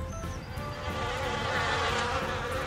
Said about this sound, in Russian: Ой, смотри, смотри, пчелка куда-то полетела.